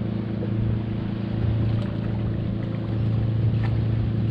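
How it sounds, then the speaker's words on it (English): Outboard motor on a small shrimp trawling boat runs with a steady, droning hum throughout, close and continuous with a faint wash of wind and water around it. "we'll lift the motor just a hair"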